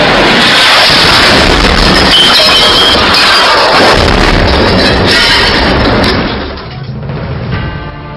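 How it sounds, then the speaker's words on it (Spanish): A missile strike in war footage sets off a big blast, heard as a loud continuous roaring rumble that fades after about six seconds. "Segundos después cae un misil seguido de una gran explosión"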